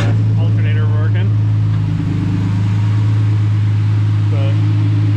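A Nissan Xterra race truck's engine runs at a steady, loud idle close by, with a constant low hum and a voice speaking briefly over it.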